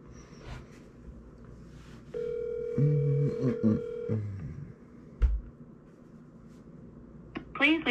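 A single steady ringback tone, about two seconds long, sounds mid-call on an outgoing telephone call during a real estate cold call. It is fairly loud over a low hum, with faint clicks and a voice-like murmur around it.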